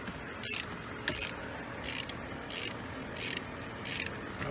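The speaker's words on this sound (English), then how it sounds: "It's going to press against the crankshaft and it's going to pull" A bolt-type puller pressing against the crankshaft of a Ford 5.4 three-valve engine draws the pulley off, making a repeated ratcheting click in regular bursts about every 0.7 seconds, moderately loud and close, with no talking.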